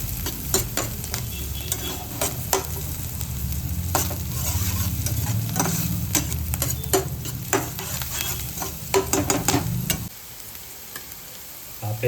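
Green onions, green garlic and capsicum sizzle in a pan for a dhaba-style paneer butter masala while a spoon stirs and scrapes in quick irregular clicks. The frying stays loud and close, then drops quieter near the end.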